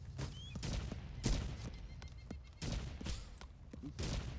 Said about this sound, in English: Taking fire from right.